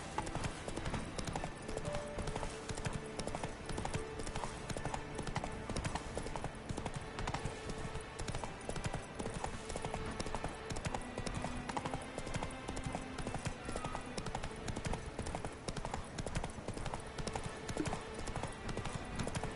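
Horse hooves clip-clop steadily in The Witcher 3: Wild Hunt, a constant rhythmic trot that continues evenly for the whole stretch, mixed with game ambience.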